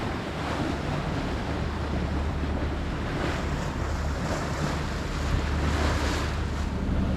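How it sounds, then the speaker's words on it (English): Calm sea waves wash steadily around a sailing boat crossing the Pentland Firth under motor, with a slight roll, a continuous broadband wash mixed with wind noise and a low engine hum throughout. "this bit of sea is pretty unpleasant, but perfect at the moment. Pretty calm, slight roll on us"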